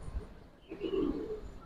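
Giribaz pigeons coo softly in a short, low, murmuring burst that swells midway, with faint background noise and no talk.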